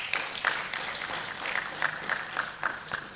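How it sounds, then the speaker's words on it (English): An audience at school competition finals claps for their teachers, with scattered sharp hand claps rising over a steady wash of moderate crowd applause. "Please recognize your teachers with a big hand clap."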